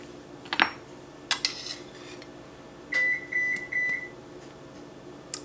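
A kitchen oven beeps three times in a steady row, fairly close and clear, after a few scattered clinks of dishes and utensils in a quiet room.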